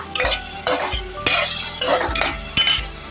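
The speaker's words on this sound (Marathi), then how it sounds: "आता ही कोलंबी मीठ मसाला बरोबर चांगली परतवून भाजून घेऊया।" Prawns with salt and masala stir-fried in a pan, a sizzling bed broken by about six sharp scraping strokes of a spatula against metal at a steady rhythm, close and loud with no talk.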